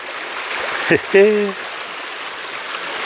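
A steady rush of shallow stream water flows over stones and pebbles throughout, with a brief voice-like call cutting in near the start.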